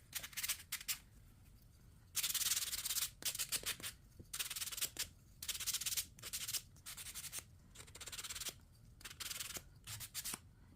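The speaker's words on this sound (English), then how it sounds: "I'm not sanding super fast." Hand sanding on a painted piece makes bursts of rasping, scratchy rubs in an irregular back-and-forth rhythm, some strokes long and others short, close up with no talk.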